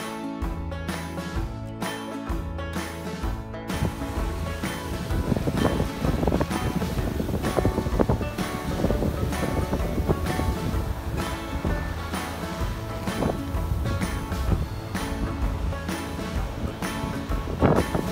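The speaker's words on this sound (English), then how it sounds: "The wind came up a lot stronger than expected." Strong gusting wind and rushing waves around a sailboat under double-reefed sail near the San Juan Islands, a constant loud roar with buffeting across the microphone.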